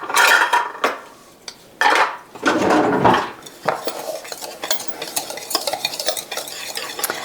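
Dry keto cookie dough ingredients get mixed in a bowl, with scraping, clattering utensil strokes in uneven bursts, louder at first and then settling into lighter, quicker stirring.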